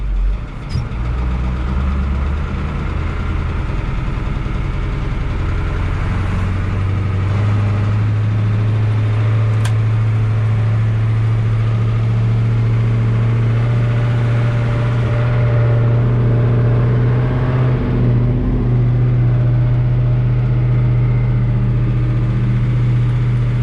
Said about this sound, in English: Going for a little ride now.